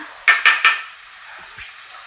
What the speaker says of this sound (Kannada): ಈ ಥರ ಮಿಕ್ಸ್ ಮಾಡಿ ಮತ್ತು ಒಂದು ಐದು ನಿಮಿಷ ಮುಚ್ಚಿ ಬೇಯಿಸೋಣ